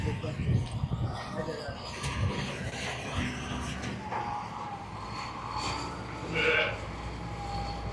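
Several sheep bleat intermittently amid a noisy outdoor background, with people talking and a higher bleat standing out near the end.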